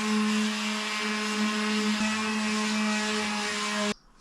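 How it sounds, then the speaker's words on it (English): A power sander works the undercoat on an old 250-year-old wooden door, giving a steady, loud whirring drone with a constant tone that runs without a break and then cuts off abruptly near the end. "I forgot to sand it in between coats of the undercoat. So I'm sanding it now."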